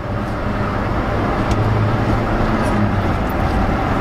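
A nearly 30-year-old Fiat Uno with its 1.0 FIRE engine pulls hard along the road, a steady, dense engine and road roar sustained close by from start to finish, with faint talk buried underneath.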